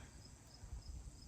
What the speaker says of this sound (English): Oh my god, the cicadas.